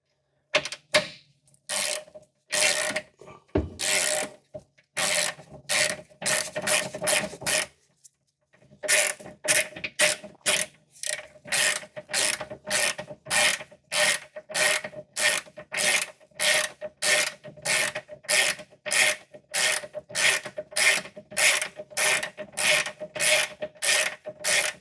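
A hand ratchet tightens the lower end bolt of a car's suspension into a captive nut inside the subframe. It clicks in a long run of quick, steady, evenly spaced strokes, close and alone, with a few irregular clicks and a short pause near the start.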